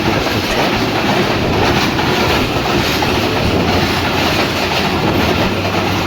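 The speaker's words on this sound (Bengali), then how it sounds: "টুঙ্গিপাড়া এক্সপ্রেস আজমনগর রেলওয়ে স্টেশনে এক নম্বর লাইন দিয়ে থ্রু পাস করে চলে যাচ্ছে" Tungipara Express, an intercity train hauled by a 6700-series locomotive, runs through Azimnagar railway station on line one without stopping, its steady clattering wheels and rumble loud and close for the whole stretch.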